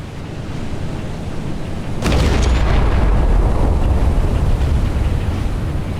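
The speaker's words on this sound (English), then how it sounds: "Let's try and get a shot with some yellow flames coming out of the guns." Battleship guns fire in the Battleship Command game, a sudden deep boom about two seconds in that rolls into a sustained loud rumble over steady wind-like noise.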